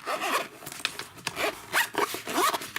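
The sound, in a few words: zipping up a tablet case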